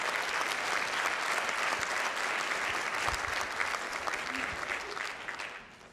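An audience applauding at a school district State of the District event, sustained clapping from a large crowd that swells and then fades away at the end.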